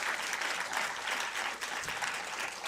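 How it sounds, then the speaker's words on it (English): An audience at an AAPI cultural heritage event applauds, dense steady clapping from many hands throughout. "Round of applause for them, really."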